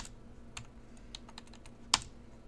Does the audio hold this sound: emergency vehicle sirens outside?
no